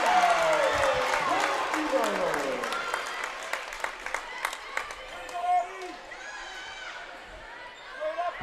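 Crowd cheering and applause fill a high school girls volleyball match between Beaver Dam and Oregon, a dense, steady roar of voices and clapping with scattered shouts and sharp ball hits throughout.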